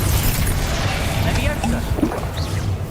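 Incendio fire spell cast during combat in Hogwarts Legacy: loud, dense crackling blasts and impacts that run continuously through the moment.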